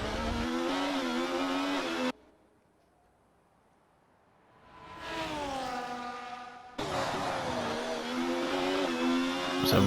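Kick Sauber Formula 1 car engine in a racing video game at a Saudi Arabia round, loud high-pitched whining revs that cut out abruptly, return rising, then resume, with rattly harmonic tones and no talk.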